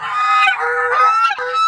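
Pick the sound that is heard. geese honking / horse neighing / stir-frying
geese honking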